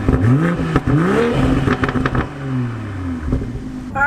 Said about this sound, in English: hit the engine start button, and it starts right up. And it has actually a loud startup on the outside